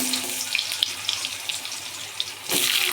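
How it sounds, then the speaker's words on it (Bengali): Potatoes frying in hot oil in a pan along with dried red chilli and a bay leaf, a steady loud hissing sizzle with faint crackles, swelling louder near the end. "আলুগুলোকে একটু ভেজে নেব।"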